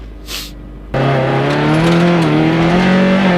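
A rally car tears along a special stage, its engine droning loud and close with rising and falling revs after a sudden start, continuous throughout.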